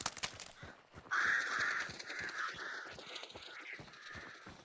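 Several crows caw in a video game, harsh repeated calls that overlap one another, close and fairly loud against light rhythmic background clicks.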